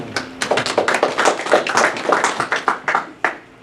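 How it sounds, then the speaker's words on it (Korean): A small audience at a lecture-forum on the Korean War gives a short burst of hand clapping, distinct close claps in an uneven rhythm lasting a few seconds. "네, 박수로."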